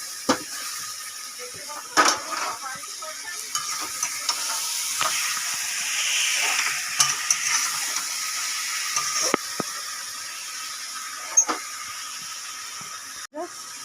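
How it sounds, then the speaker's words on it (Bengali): Spices and tomato sizzle and fry in a pan for a katla fish-head curry, with a steady hiss under scattered clinks and scrapes of stirring, close and moderately loud. "ধনের গুঁড়ো, লঙ্কা গুঁড়ো, জিরে গুঁড়ো দিয়ে ভালো করে কষিয়ে নিয়েছি।"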